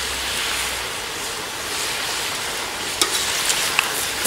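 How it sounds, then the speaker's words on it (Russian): A cauldron of Uzbek lamb pilaf is being stirred over a campfire, giving a steady, broad sizzling and scraping wash with a few sharper clinks near the end and no voices. "Я уже все перемешиваю."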